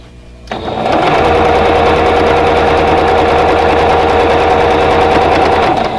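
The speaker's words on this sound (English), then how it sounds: "so I just need to sew." Sewing machine stitching a vintage Carolina Lily quilt block starts up after a brief quieter moment, then runs as a loud, fast, steady mechanical whir with rapid needle rhythm until the end.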